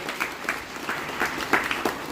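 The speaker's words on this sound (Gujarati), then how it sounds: "આપ સૌ ભાઈઓ બહેનો અને તાળીઓથી વડાવી દઈ એવી મારી વિનંતી છે." Scattered clapping from a gathered crowd at a neighbourhood religious discourse in Gujarat, uneven bursts of hands rising and falling rather than a full roar.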